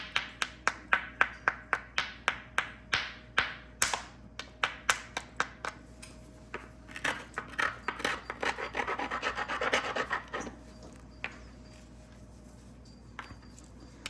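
A hammer stone strikes and rasps along a hornstone edge to bevel it, first as a quick series of sharp, regular clicks, then as a scraping, grinding stretch, close and loud, with no talking.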